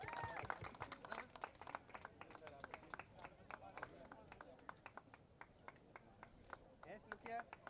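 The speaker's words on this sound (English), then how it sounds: "Give a round of applause to him." Audience applause: a crowd clapping in a dense, steady patter of many hands, fairly close, holding for several seconds.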